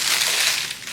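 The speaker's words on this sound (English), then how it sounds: "I'm gonna spend about 100 years trying to unwrap it" Crinkly plastic packaging being pulled off a decor item, a loud close crackling crumple lasting about a second.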